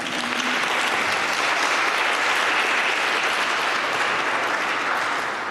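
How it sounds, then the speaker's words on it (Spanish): Sustained audience applause fills an indoor panel session on equal cities for women, a dense, even wash of clapping from a crowd that holds steady throughout and fades slightly at the end. "Un aplauso para nosotros."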